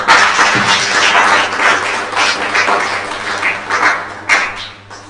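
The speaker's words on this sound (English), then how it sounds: "Clap for them." A studio audience claps for a school team during the NCCE Smart Governors' Constitution Quiz, broadcast live on radio. The applause is dense and steady, fairly loud, and lasts throughout with slight swells.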